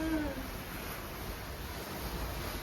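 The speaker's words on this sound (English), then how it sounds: "Do you hear the ocean waves?" Ocean waves wash against the hull of the Radiance of the Seas cruise ship, a soft, steady rushing surf mixed with breezy wind noise, heard from the deck at a distance and quiet throughout.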